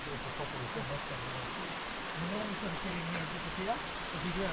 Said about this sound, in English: wander this beautiful waterfall.